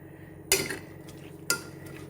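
A spoon scrapes and clinks against a pot while stirring chayote with salt for a South Indian kootu, two sharp metallic strikes about a second apart, close and clear.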